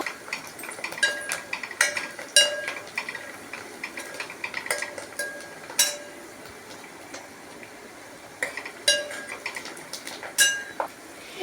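A utensil stirs sliced ivy gourd in a metal pan, giving irregular sharp clinks and scrapes at close range, clustered in bursts with quieter gaps between.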